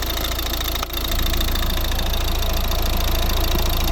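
A 2011 Volvo S40 1.6 D2 diesel engine idles up close, a steady loud rumble with a rapid rhythmic knocking clatter throughout and a brief dip near the start.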